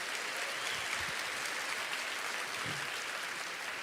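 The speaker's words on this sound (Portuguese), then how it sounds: "pode aplaudir ao Senhor Jesus Cristo então" Church congregation applauding the Lord at the end of a study, a uniform hiss of many hands clapping together, sustained and fairly distant with no clear individual claps.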